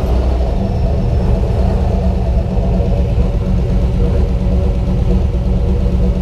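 A hot rod fitted with a TH350 transmission idles with a steady, loud, low engine rumble that runs unbroken and close throughout.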